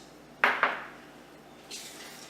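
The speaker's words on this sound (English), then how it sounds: "You want to get everything really well mixed." Egg and butter are mixed in a bowl for pecan pie muffins: two sharp utensil knocks against the bowl in quick succession, then a softer scrape a moment later, with quiet in between.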